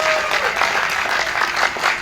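An audience claps at a religious lecture, a dense, continuous burst of applause filling the whole moment at close, fairly loud level.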